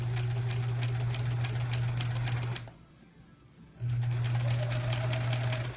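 A sewing machine stitches a quilt block in two close, loud runs with a steady humming motor and rapid needle chatter, separated by a pause of about a second.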